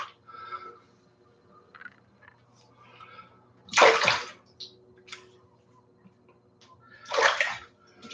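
Warm tap water runs in two loud bursts while a razor is rinsed clean, with quieter trickling and handling sounds between them.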